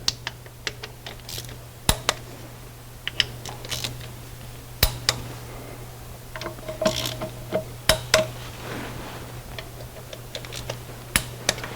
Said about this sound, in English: we've torqued all the transmission oil pan bolts